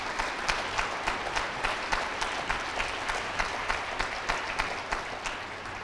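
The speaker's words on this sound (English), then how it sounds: "So if you could please give them a round of applause." A crowd at a school Veterans Day program claps steadily, the applause holding an even, dense texture with a faint rhythmic pulse throughout, with no talking over it.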